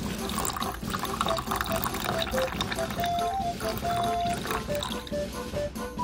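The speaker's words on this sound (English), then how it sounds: "Pour water in the machine." Water pours into a toy washing machine in a steady, close splashing stream, with bright musical tones and a voice running over it throughout.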